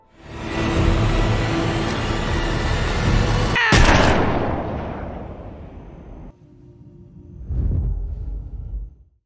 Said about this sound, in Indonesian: tiba-tiba terdengarlah suara tembakan yang menandakan bahwa polisi telah datang